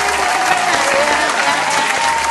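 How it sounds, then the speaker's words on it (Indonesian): Audience clapping hands in a hall, a steady dense wash of applause filling the whole stretch with a faint murmur of crowd beneath and no clear voice on top. "Ya, tepuk tangan, tepuk tangan"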